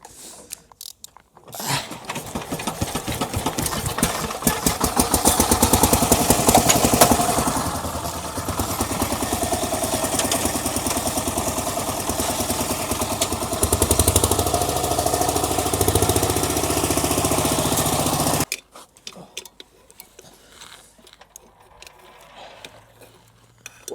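A walk-behind tractor's single-cylinder engine runs close and loud with a rough, knocking chug, revving up and easing off several times before shutting off abruptly, followed by quiet handling noises.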